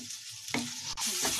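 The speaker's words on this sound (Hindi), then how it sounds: "ये हल्दी हमारी भुनने लगी है, देखो कितना अच्छा सा कलर आया हल्दी का।" Turmeric roasts and is stirred in a kadhai, giving a soft, close sizzle broken by a couple of quick scraping stirs over a short stretch.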